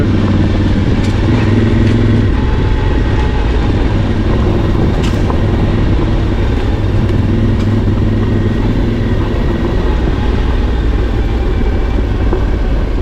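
A Voge DS625X motorcycle engine drones loud and continuous while trail riding down a green lane in Devon, with steady low rumble, wind buffeting and no clear talk.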